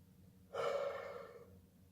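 One person gives a single breathy yawn, a sudden open inhale that trails off over about a second, close and fairly quiet.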